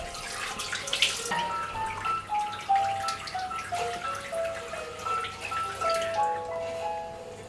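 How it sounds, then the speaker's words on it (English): Warm water runs steadily from a tap into a sink while a face is rinsed, giving a close, continuous splashing wash with small trickles and drips over a quiet room. "So again, rinsing with warm water"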